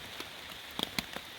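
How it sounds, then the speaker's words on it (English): Light rain falling on a campsite at night, a steady soft patter with scattered sharper drops hitting a surface nearby, constant and gentle with no talking. "now it's pretty good little light rain going on"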